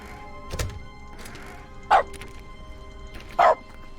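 Dog barks triggered by a console command in the video game The Stanley Parable: two short, loud synthetic barks a second and a half apart, with a fainter bark-like blip earlier, over quiet game background.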